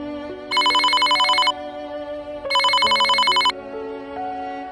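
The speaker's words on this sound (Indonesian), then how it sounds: "Hingga sebuah dering telepon rumah terdengar nyaring" A home telephone rings loudly in two long electronic bursts of rapid trilling tones, separated by a pause, with a soft melodic background tone running underneath.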